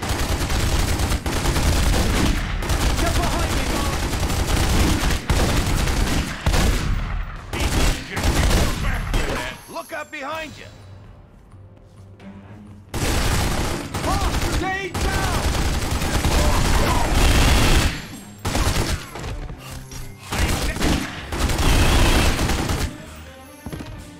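Gunfire in The Godfather video game, rapid bursts of automatic and single shots rattling loudly in clustered volleys, a brief lull in the middle, then more sustained firing.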